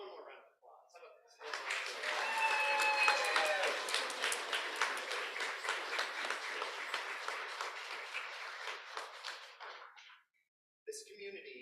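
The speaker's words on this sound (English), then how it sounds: "how about one more round of applause?" A church congregation breaks into sustained applause at a December pageant, a dense wash of many hands clapping that swells quickly, holds steady for several seconds, then fades out, with a few voices calling out beneath it.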